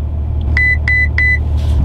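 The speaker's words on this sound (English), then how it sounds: "So if I hold this over now, you just listen to it beep." Ferrari F12 TDF cabin chime as ESC is switched off: three clear, evenly spaced electronic beeps over a low idling engine rumble.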